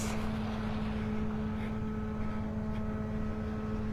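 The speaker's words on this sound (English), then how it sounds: "I hear the blower going in parking lot number 4 up here." A leaf blower clearing sand off a beach parking lot at Delnor-Wiggins Pass in North Naples, Florida, a steady distant motor drone with a constant hum, heard alone without voices.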